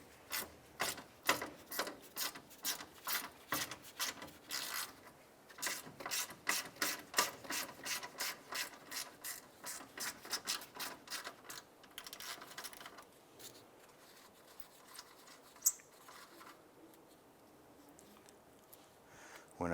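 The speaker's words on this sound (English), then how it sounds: "Let's go ahead and remove that bolt" Rapid ratchet wrench clicking loosens a 10mm bolt holding a ground strap on the upper radiator support of a 2001-2005 Honda Civic, coming in close bursts of steady clicks with brief pauses and then slowing near the end.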